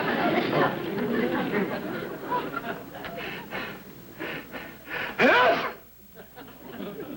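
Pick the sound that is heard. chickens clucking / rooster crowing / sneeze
sneeze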